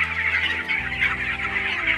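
Chickens on a poultry farm clucking loudly and close, several birds overlapping in a busy, steady chorus.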